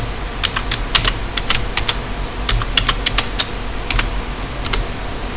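Keys on a computer keyboard clatter in quick, uneven bursts of crisp clicks as a password is typed, close and fairly loud with short pauses between runs.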